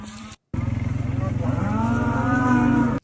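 Cattle close by let out a loud, drawn-out moo that rises and swells after a brief cut, over a rhythmic low engine-like throb.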